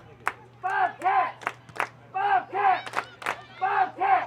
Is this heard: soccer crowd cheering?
yes